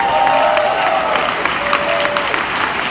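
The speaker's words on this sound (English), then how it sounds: "for which we give him another huge round of applause" A room full of people at a Chicago event gives a loud, sustained round of applause, dense clapping with some cheering, close and continuous throughout.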